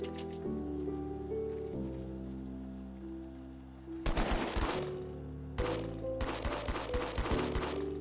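Fortnite gunfire rips out in two loud rapid automatic bursts, a short one and then a longer sustained volley, cutting across background music.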